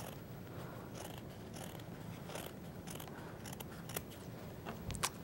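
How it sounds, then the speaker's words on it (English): Scissors making small snips into a piece of felt for a kids' craft, quiet crisp cuts scattered over steady background noise, a few clearer snips near the end. "you're gonna make some snips in the felt"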